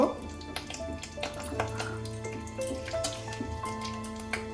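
Bay leaves, a cinnamon stick, cardamom pods and cloves sizzle in hot oil in a kadai, giving a soft, steady crackle with scattered pops, quiet and close.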